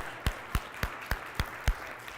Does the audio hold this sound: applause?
yes